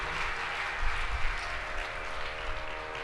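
A spiritual gathering's audience applauds to welcome the Brahma Kumaris sisters: a dense, steady wash of clapping with no talking.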